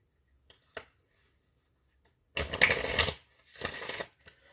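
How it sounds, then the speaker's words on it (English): Oracle cards are shuffled by hand in two quick riffling bursts, each about a second long with a short gap between, close and crisp after a couple of faint taps in near silence. "let me just get a few oracle cards here for you guys"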